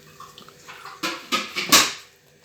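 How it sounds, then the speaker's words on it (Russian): A dog chews a bone indoors, giving three or four brief wet crunching and gnawing bursts close by, rising in loudness before fading. "косточку кушает."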